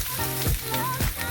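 Ikan bilis frying with onions, garlic and ginger makes a continuous close sizzle and crackle under a faint background hum, with no voice.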